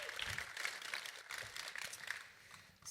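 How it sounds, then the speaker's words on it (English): Audience clapping at a Windows Autopilot and Office 365 deployment tech session: light, scattered applause from a moderate crowd, fairly faint and uneven, with a few distinct claps, no speech. "you can clap"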